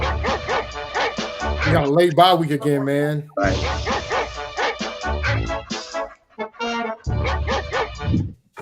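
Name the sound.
puppies barking and yipping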